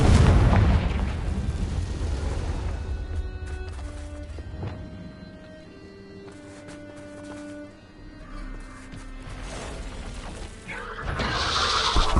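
The Confringo blasting spell going off in Hogwarts Legacy, a loud booming explosion with crackling debris, followed by a lingering rumbling tail and scattered shattering bursts, then a swelling blast again at the end; no talk.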